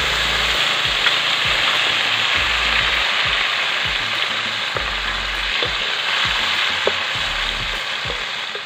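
Garlic, onion and tomato sauté in a hot pan, a loud steady frying hiss throughout with repeated scraping and clacking of a spatula stirring against the metal.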